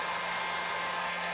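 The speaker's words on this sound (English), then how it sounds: "it's essentially a hair dryer" A heating torch running on its low setting gives a steady, airy whoosh like a hair dryer, with a faint constant hum underneath, holding even for a moment with no voices.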